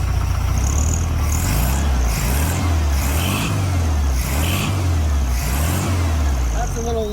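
A 1974 VW Beetle engine, freshly fitted with an adjusted carburetor, idles steadily at about 850 rpm with a low, even throb and a few slight rises in pitch, close by and alone.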